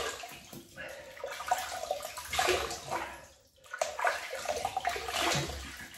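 Running water from a tap while a face is wetted before shaving. Splashing and flowing sounds rise and fall, with a short pause partway through.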